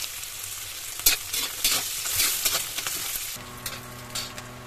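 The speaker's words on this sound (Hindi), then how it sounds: "इसको थोड़ा सा फ्राई होने देंगे।" Veg Manchurian balls deep frying in hot oil give a steady, close sizzle, crackling bursts rising and falling with no speech.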